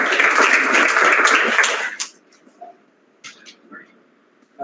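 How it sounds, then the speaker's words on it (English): Applause from an audience at an internship closing ceremony, a dense burst of clapping that ends sharply after two seconds, followed by scattered faint sounds and near silence. "Round of applause, guys."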